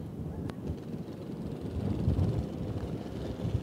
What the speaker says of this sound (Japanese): さあ一段と風が強くなってまいりました。